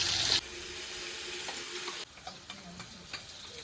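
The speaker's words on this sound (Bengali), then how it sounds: "মশলাটাও খুব ভালো করে একটু কষিয়ে নেব" Ground spice paste with cumin seeds frying in hot oil in a wok for a fish curry, a loud steady sizzle that drops to a softer crackle midway, with occasional stirring clicks.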